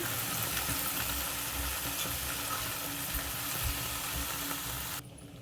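Washed panaganti leaves sizzle loudly in a hot pan while being stirred, a dense continuous frying hiss that drops away abruptly near the end.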